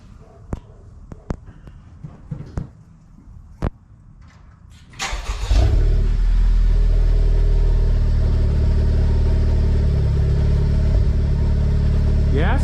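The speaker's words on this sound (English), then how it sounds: "we're gonna give it a little start to see what it sounds like" A few sharp clicks and knocks, then a Honda Civic Type R with a Greddy Supreme SP aftermarket exhaust cranks and fires up, settling into a loud, steady rumbling idle with a throaty exhaust tone.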